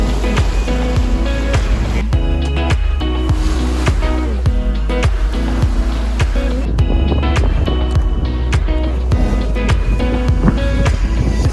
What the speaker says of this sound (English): still got big waves